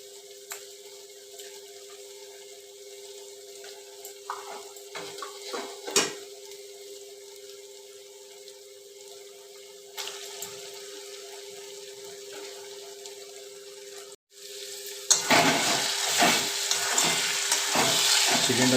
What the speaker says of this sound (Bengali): এবার আমরা ম্যারিনেট করা চিকেনটা এতে দিয়ে দেব।